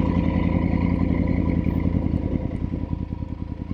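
A Triumph Tiger 850 Sport motorcycle engine runs close by, its steady low harmonic throb loud and continuous, with a slight change in firing rhythm late on and no talking.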